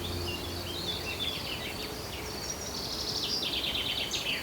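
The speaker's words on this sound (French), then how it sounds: "Le dernier chant là que vous venez d'entendre, c'est un oiseau qui est là depuis tout à l'heure." Birds sing outdoors in quick, high chirping phrases spread across the stretch, moderately distant over a steady low ambient hum, with no talking.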